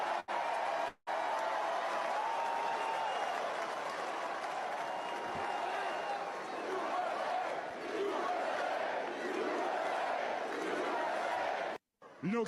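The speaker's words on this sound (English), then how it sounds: "Okay, get the crowd going." A crowd at a live wrestling event in Johnstown, Pennsylvania, cheers and applauds in a continuous roar of clapping and shouting. A voice carries over the noise from time to time, and there are brief dropouts near the start and end.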